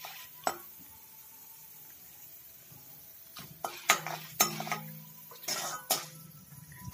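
Sporadic clinks and scrapes of a utensil against a pan as mustard seeds, fenugreek and chana dal fry, with faint sizzling underneath, a few sharp metallic taps spaced out over quiet frying.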